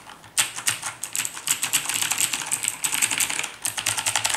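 Fast typing on an Aula Mechanical Demon King mechanical keyboard, a $30 model, produces close, crisp clacky keystrokes in quick irregular bursts with brief pauses, heard alone without speech.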